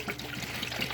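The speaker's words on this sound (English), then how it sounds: "we're just going to pour it right in our bucket here" Lemon juice, about a liter, poured from a container into a bucket, making a steady trickling, splashing stream of liquid throughout, close and moderately loud with no talking.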